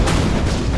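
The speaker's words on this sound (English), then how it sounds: "Our cannon is ready, General." A sniper cannon in a real-time strategy war game fires a heavy flat-trajectory artillery shot, a single loud, booming blast filling the short moment with low rumble.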